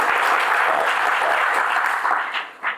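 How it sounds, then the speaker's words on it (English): Audience applause for the speakers at a national accountability charter convention: a steady, dense wash of clapping from a crowd that thins and fades near the end, with a brief final burst. "let's have a round of applause for the speakers so far"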